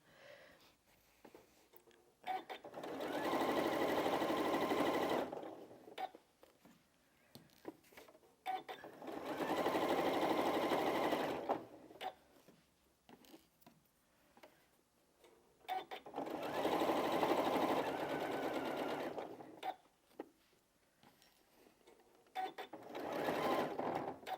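A domestic sewing machine set to its longest stitch length runs in three long bursts of several seconds each, a steady close mechanical whir with quiet pauses between runs.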